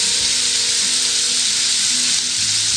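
Spices sizzle loudly in a hot oiled pan for an egg and onion curry, a dense, steady frying hiss close up with faint stirring underneath.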